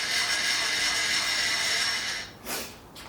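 The vise handle on a Bridgeport milling machine is cranked with a steady metallic whir and ratcheting hum, close by. It fades near the end into a couple of short scraping clunks.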